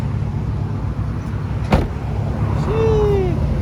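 A car pulls up close by at a gas station, its engine note rising and falling, with a sharp clunk partway through and a rising tonal whine near the end.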